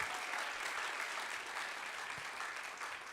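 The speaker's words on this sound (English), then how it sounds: "Can we please give them another round of applause?" Steady, dense audience applause for a high school jazz band at a fall concert, a broad continuous wash of many hands clapping evenly throughout without pause.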